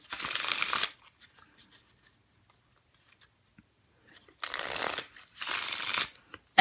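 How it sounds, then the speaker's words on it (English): Cartamundi Magic Live 2017 playing cards are riffle-shuffled in three soft, crisp bursts, one at the start and two close together near the end, separated by near silence with faint handling noises. "they shuffle very nicely"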